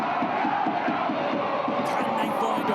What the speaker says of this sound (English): Barnsley crowd urging their side forward.